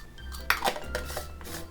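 Ingredients clatter in a mixer grinder jar in a home kitchen while making bread kulfa, a short burst of knocks and clinks up close with a steady low hum beneath, no talking.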